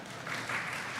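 Audience applause at a Trinidad and Tobago national police recruitment event, a steady wash of clapping from a crowd lasting about a second.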